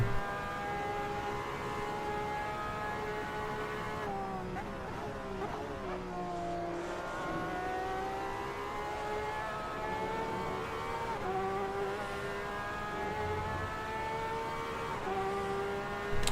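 LMP prototype race cars in Assetto Corsa lap Monza, with high engine whines rising and falling in pitch as cars pass, a steady layered drone throughout at moderate level.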